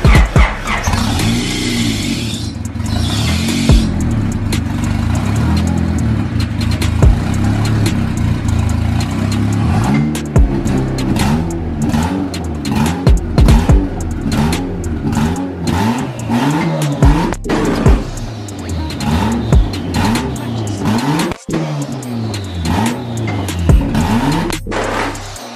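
A stock Honda H22 turbo engine firing up for the first time, running loud and close with rough idle surges and repeated revs rising and falling throughout, no talk over it.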